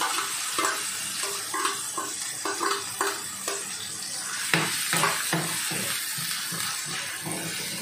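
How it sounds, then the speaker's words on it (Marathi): Chopped onion and kokum frying in hot oil as the base for a prawn masala, giving a steady, close sizzle with soft stirring scrapes throughout and no talk. "ह्याच्यात पहिल्यांदा आपला कांदा टाकते आणि कोकम घेतलेत मी."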